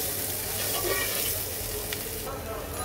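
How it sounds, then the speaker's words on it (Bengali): Sliced onions lightly frying in a pan, a steady close sizzle and crackle that stays fairly quiet and even. "তো চলো পেঁয়াজটাকে একটু হালকা ভেজে নেই।"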